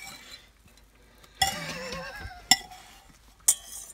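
A whisk clatters and scrapes in a metal pan, with three sharp metallic clinks standing out between quieter stretches of stirring.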